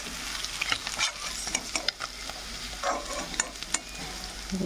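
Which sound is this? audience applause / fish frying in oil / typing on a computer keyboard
fish frying in oil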